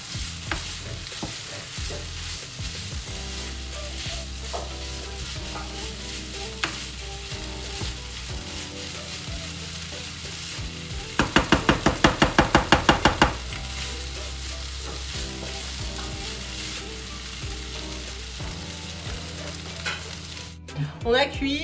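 Food frying in ghee in a pan, a constant sizzling hiss with stirring and scraping throughout, a quick burst of rapid rattling taps midway and a brief clatter at the end.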